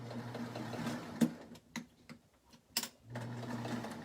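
A domestic sewing machine stitches the pleats of a fabric face mask in short, quiet whirring bursts, pausing between runs, with small mechanical clicks and taps in the gaps.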